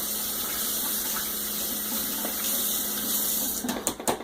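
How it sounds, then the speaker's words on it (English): Mead-making equipment rinsed under a running tap: a steady, loud gush of water that breaks into a few quick clatters and splashes at the end, with no one speaking. "Rinse this thing off again."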